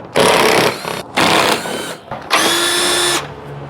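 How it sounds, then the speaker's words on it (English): A power drill runs in three bursts of high whine, spinning out 10mm bolts that hold the bumper on a Chevy Traverse during a radiator replacement, loud and close with brief pauses between. "Remove this 10mm bolt that's holding this bumper."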